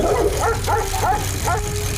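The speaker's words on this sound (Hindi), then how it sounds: "कुछ कुत्ते राजेश की साइकिल को देखकर भौंकने लगते हैं।" Several village dogs bark at a bicycle, a quick run of yapping barks close by, with a voice talking over them.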